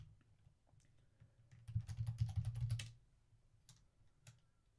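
Quick burst of typing on a computer keyboard, a close, fast flurry of key clicks lasting about a second, then a few scattered taps in a quiet room.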